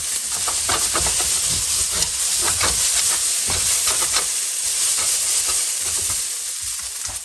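Noodles stir-fried with soya sauce in a wok, bean sprouts and spring onions included, give a steady loud sizzle and hiss, broken by rhythmic scraping tosses throughout.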